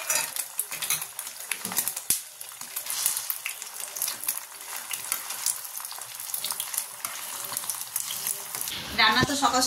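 An egg omelette fries in a pan with a steady close sizzle. Scraping and clinking of a utensil against the pan run through it, and a sharp metallic clatter comes near the end.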